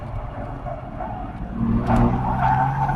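A race car skids with its wheels locked up, a loud, close, rough tire scrub over a deep engine rumble that swells through the second half.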